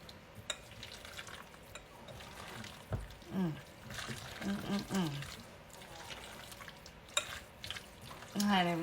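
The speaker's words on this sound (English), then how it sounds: "now we're going to give this a good mix. Get all of that good and mixed up." Wet squishing and scraping as BLT chicken salad is mixed in a bowl, with intermittent spoon clicks and a voice talking over it.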